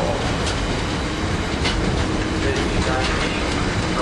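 An East Coast passenger train rolls on the rails outside Doncaster with a continuous, fairly close rushing roar of wheels and track noise, and faint rhythmic clicks ride on top throughout.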